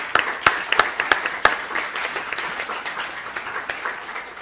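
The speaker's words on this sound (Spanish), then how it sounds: "Damos un aplauso a Claudia." Applause for a participant at a digital citizenship conference, a small group clapping with a few louder near claps at first, then a steady patter that thins out.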